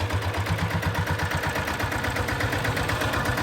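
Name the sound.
diesel Bullet motorcycle engine revving with aftermarket silencer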